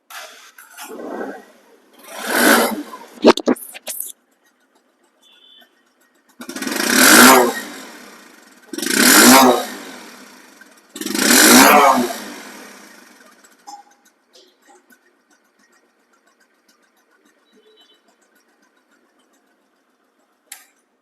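A Bajaj Discover 125cc motorcycle engine, from a 2024 model in showroom condition, revs loudly in four strong bursts, each rising and falling back to a quiet idle, with a few short blips between.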